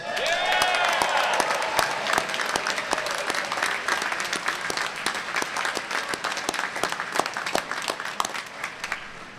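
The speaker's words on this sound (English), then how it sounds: "please join me in a round of applause for Del Monte Brass" Loud, sustained audience applause fills a graduation ceremony hall in honor of a brass ensemble, with a few whistles early on before the clapping gradually thins out over about nine seconds.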